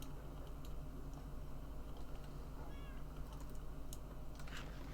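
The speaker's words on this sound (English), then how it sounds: "There's the cat." A cat in the video game Minecraft gives a short, soft meow midway through, over a quiet steady background hum with scattered light keyboard-like clicks, and no one talks.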